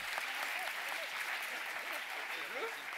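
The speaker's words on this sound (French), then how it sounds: "On peut les applaudir." An audience applauds at a keynote talk, with a brief spell of clapping that runs steadily under light background noise.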